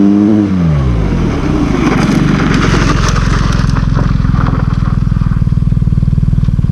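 A 2021 BMW GS motorcycle braking hard with ABS where the road surface changes, its engine loud and close. The pitch drops, then gives way to a rapid pulsing chatter that carries on to the end.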